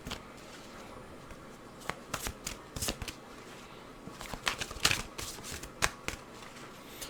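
Tarot cards being shuffled during a pick-a-card reading, heard as a run of crisp riffling and flicking bursts of varying loudness, close by with no talking.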